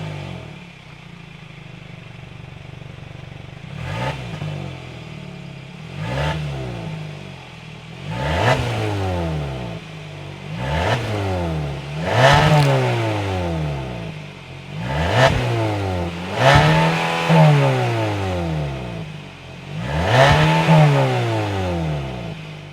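A 2026 Kia Sportage SX-Prestige's 2.5-liter four-cylinder engine is revved repeatedly, about eight sharp throttle blips rising and falling over a steady idle, loud and close.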